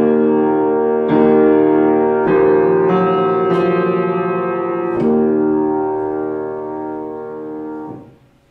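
A closing phrase motif from an Icelandic art song by Jón Leifs, with sustained voice and piano chords moving through a few struck changes before fading out at the end, heard alone with no talking.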